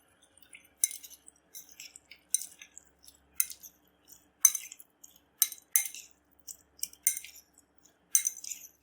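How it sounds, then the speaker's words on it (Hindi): Beef pieces are tossed by hand in a cornflour and spice marinade in a bowl, giving light, irregular clinks and wet taps in scattered bursts against near silence. "अब हम अच्छे तरीके से मिक्स करेंगे।"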